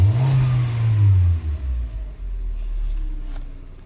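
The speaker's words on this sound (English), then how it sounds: "So I'm gonna do wide open throttle again." A 2015 VW Jetta engine is pushed to wide open throttle, giving a loud low roar that falls away after about a second and a half. A steady low rumble continues after it, with no talking.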